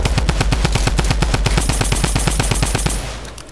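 Rapid automatic gunfire in the video game Fortnite, a steady fast stream of loud punchy shots lasting about three seconds before cutting off, with no talking over it.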